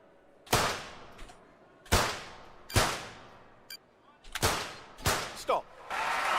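Gunshots ring out at targets in a shooting event in the London 2012 video game, five or six sharp, loud cracks spaced about a second apart, each with a short ringing decay.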